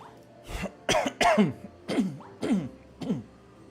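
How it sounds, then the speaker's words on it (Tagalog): About six short, harsh coughs come in a loose series, close by, with brief gaps between them. "Three years na yung ubo mo."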